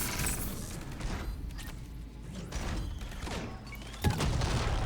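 Gunfire and a missile explosion in a Mass Effect 3 multiplayer match: dense bursts of weapon fire and rumbling blasts throughout, with a sharper impact near the end, loud and continuous.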